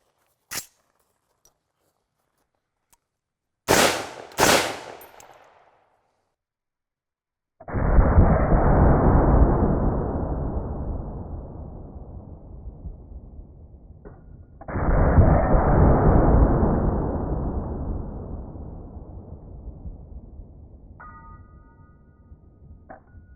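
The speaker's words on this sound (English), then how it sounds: "Let's see how this plate does against some armor piercing incendiary." Armor-piercing incendiary rounds fired at a body armor plate: a few sharp cracks early on, then two heavy, booming blasts with long rumbling decays that fade slowly, loud and close, with no talking.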